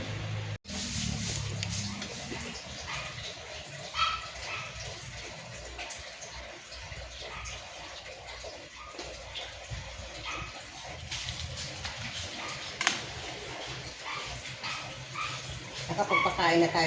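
Household pet dogs, including Kokoy and Peanut, give scattered barks and yips amid running water and clatter at mealtime, with people talking over much of the scene.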